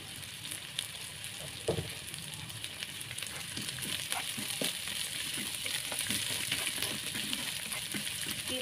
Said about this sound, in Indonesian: Kita tumis sampai layu ya cabenya.